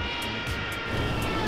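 Airplane engine drone in GTA 5 as the plane comes in to land, a brief steady roar with no talking.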